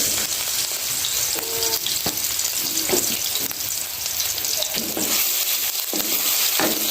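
Steady, close sizzling of ginger garlic paste frying in hot oil over medium-low heat, a continuous crackle with occasional faint stirring knocks.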